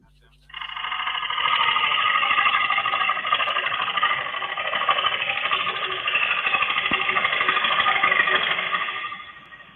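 A metal-cutting gouge bites into a spinning workpiece on a lathe, giving a loud, steady, harsh grinding whine that holds for about nine seconds before stopping abruptly.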